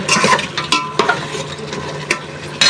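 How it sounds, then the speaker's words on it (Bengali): Shrimp, flat beans and potatoes sauté together in a pan, a loud, close, steady sizzle broken by repeated scrapes and clacks of the stirring spoon, with no speech. "সিম আলু চিংড়ি সব একসাথে কষায় নিতেছি"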